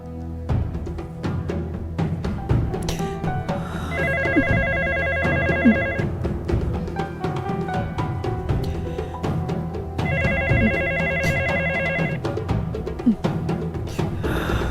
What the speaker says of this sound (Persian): بلند شو، حتما دینی زنگ زده